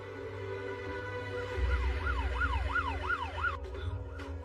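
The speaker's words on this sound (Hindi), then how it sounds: "ये तो पुलिस का सायरन है।" An emergency vehicle siren in a Hindi-dubbed South Indian film wails in a repeated rising-and-falling pattern, with several quick cycles over a low rumble of traffic, fairly clear and prominent.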